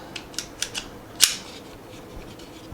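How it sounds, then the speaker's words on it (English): Metal clicks and a sharper snap as the slide of a Bodyguard 2.0 pistol is fitted back onto its rails: a few quick light clicks followed by one louder click, then quiet handling. "we're just going to put the slide back on the rails"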